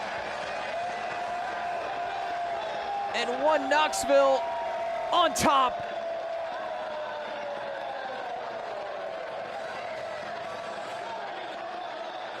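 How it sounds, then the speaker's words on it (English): A soccer stadium crowd at a One Knoxville SC match against Forward Madison FC lifts into a roar and cheers after a goal, a steady wash of crowd noise under a commentator's talk. "draws a roar from the crowd."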